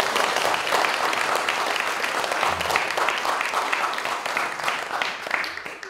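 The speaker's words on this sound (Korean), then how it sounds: "찬성하고 박수 한번 주세요." An audience at a Buddhist temple's monthly Dharma service claps in a dense, steady round of applause that carries on throughout and tapers slightly toward the end.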